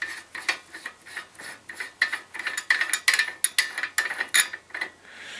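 A Delta kitchen faucet cap is unscrewed by hand, a close series of short rhythmic scraping, grinding clicks of metal threads turning, repeated about a dozen times and growing slightly louder toward the end.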